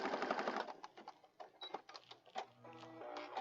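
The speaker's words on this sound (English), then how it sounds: "we're going to go to the sewing machine and we're going to stitch around this guy" A sewing machine stitches around a paper junk journal piece in short, fairly quiet bursts of rapid mechanical chatter separated by brief pauses.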